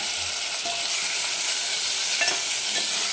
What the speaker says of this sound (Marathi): 2 टोमॅटो घेतलेले आहेत, ते बारीक कापून घेतले, ते टाकायचे